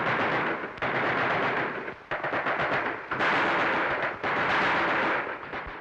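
Sustained gunfire in a battle between British troops and over 600 Egyptian auxiliary police at Ismailia, a loud continuous crackle of rapid shots in dense bursts with brief lulls, no voices.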